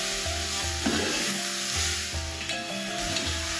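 Turmeric and red chili powder sautéing in a hot pan for a curry, a steady sizzle with a spoon stirring and scraping through it, close and continuous, with no talk.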